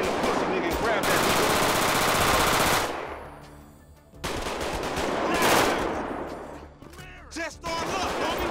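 Rapid automatic gunfire in the GTA 5 video game, loud bursts of machine-gun fire with a pause in the middle, then more bursts and scattered shots.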